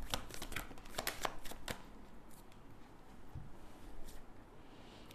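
Tarot cards are shuffled and drawn in a series of crisp riffling flicks and soft slaps, fairly close and moderately quiet, with no talking.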